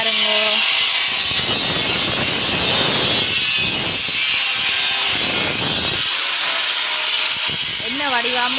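A grinder cutting through material makes a loud, continuous high whine, with rising and falling grinding bursts and a brief pitch sweep near the end, while people talk now and then.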